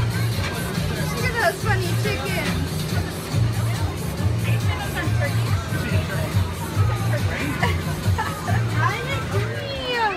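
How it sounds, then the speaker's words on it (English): A busy crowd chatters at a pumpkin patch with chickens nearby, a steady hubbub of many voices while nearby adults talk over it. "Trying to go through a crowd of people"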